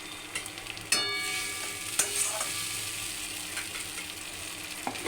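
A paste of ground mustard, poppy seeds and green chillies fries with onions in a pan, giving a steady close sizzle broken by a few sharp clinks and scrapes of stirring.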